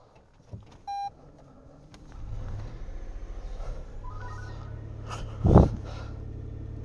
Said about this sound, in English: I'm going to start the car up whilst I clear all the snow